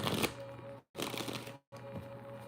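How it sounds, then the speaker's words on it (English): Tarot cards being shuffled by hand in three quick riffling bursts separated by brief silences, close and fairly loud, with a steady low hum underneath. "Let me get a good shuffle real quick."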